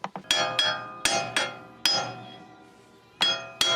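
Hammer rapping on a seized brake dust shield on a 4x4, sharp metallic strikes in an irregular series of about eight blows with ringing decay between them, close and loud with no talking.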